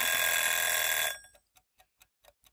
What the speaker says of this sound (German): Man kann sich halt nicht auf YouTube Eieruhr verlassen.